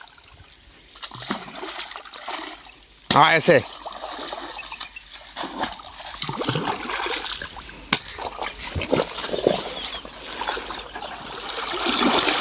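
Wet mud flung into flowing irrigation water to plug a breach in a farm field channel during the rainy season, with a sharp splash standing out among running, trickling water while someone speaks briefly nearby.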